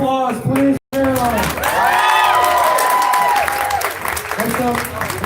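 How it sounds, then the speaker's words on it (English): A crowd at a BLM rally breaks into applause and cheering, with loud sustained clapping, whoops and shouts rising over a brief announcer's voice and continuing to the end. "Please give another round of applause,"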